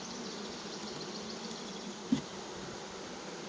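A freshly caught swarm of honey bees building new comb, a faint continuous buzzing hum with one brief soft knock, quiet and steady throughout.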